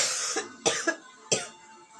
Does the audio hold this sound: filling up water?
no